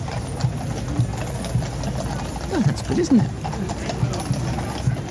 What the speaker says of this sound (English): Horses. Horses.